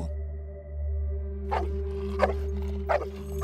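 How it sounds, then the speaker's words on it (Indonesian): A black guard dog barks aggressively in a series of sharp, loud yelps over a steady low hum, with bursts clustered in the latter half of the clip. "Ada seekor anjing hitam penjaga yang terus menggonggong agresif."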